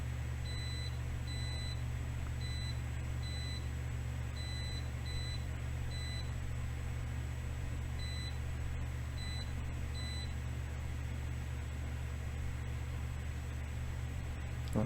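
A multimeter gives short high beeps in quick pairs and groups while continuity is checked on a Nintendo Switch circuit board, sounding clear over a loud, steady low hum and hiss.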